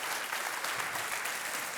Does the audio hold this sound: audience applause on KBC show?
yes